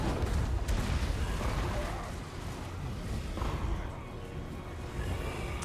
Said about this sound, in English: The cannons are shooting over there into their Chaos Marauders as well.